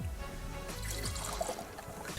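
Fresh juice trickles and pours from the jug of a centrifugal juicer, a soft, faint liquid stream lasting a couple of seconds with no talking.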